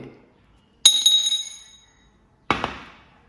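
Dice rattle inside a rechargeable hi-lo dice shaker, heard as two separate bursts of bright clattering clinks, each one sharp at first and then dying away.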